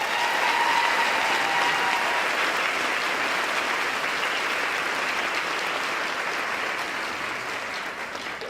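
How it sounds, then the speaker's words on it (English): A large crowd gives sustained applause for a contest representative at a school district convocation, loud and even from start to finish, easing slightly only at the very end. "Give her another round of applause"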